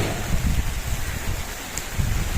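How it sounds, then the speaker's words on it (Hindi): Rain falls in a cool wind in a village, making a steady broadband hiss with gusty low rumbles of wind against the microphone. No one speaks. "बारिश भी हो रही है, ठंडी ठंडी हवा भी चल रही है"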